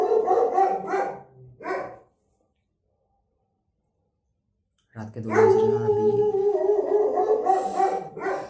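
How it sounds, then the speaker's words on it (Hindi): Dogs barking at 2 a.m., a burst of loud, close barks and yelps that breaks off into silence and then returns, with someone speaking over and between them. "ये कुत्ते मेरा डिस्टर्ब कर चुके हैं।"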